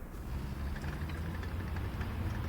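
A steady, low vehicle engine rumble idles throughout in the game War Thunder, with faint mechanical noise layered over a dense game background; no speech.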